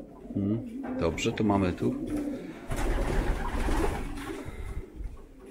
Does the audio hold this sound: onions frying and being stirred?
no